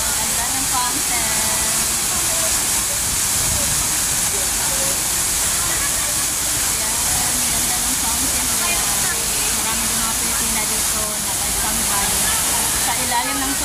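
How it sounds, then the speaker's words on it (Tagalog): Fountain water in Chater Garden, Hong Kong, pours in a steady, loud broadband rush that fills the whole clip, with faint voices in the background. "Ang ganda ng fountain."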